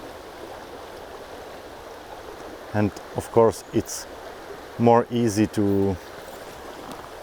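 A fast-flowing trout and grayling stream in Slovakia rushes with a steady broadband noise throughout. Someone talks over it in two short bursts.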